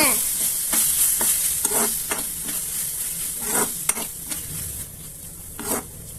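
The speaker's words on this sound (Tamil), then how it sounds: "மேகி மசாலா, டொமேட்டோ சாஸ் நல்லா கலந்துக்கோங்க." Maggi masala and tomato sauce stirred together in a pan, giving a steady sizzle with repeated scraping strokes of a spoon at an irregular rhythm, close and clear with no talking.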